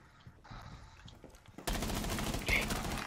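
Bursts of video game gunfire fired through a wall, starting abruptly at full loudness after quieter sounds and continuing as rapid, dense shots with a sharper burst near the end.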